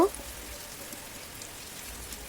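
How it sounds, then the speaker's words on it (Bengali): Curry leaves crackle as they fry in hot oil for a crispy chire bhaja snack, giving a steady, fine hiss and patter of sizzling close by, quiet and unbroken, with no talking. "এবারে আমি কারি পাতাগুলোও ভেজে নেব।"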